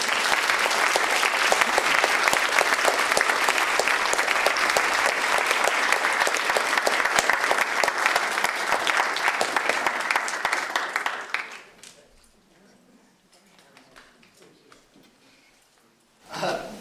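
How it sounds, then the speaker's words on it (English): Loud, sustained audience applause greets a speaker, Bob Whitaker, at a talk on mental health, running dense for about eleven seconds before dying away to quiet room noise, with a brief burst of sound at the very end. "Big round of applause for a hero, Bob Whitaker."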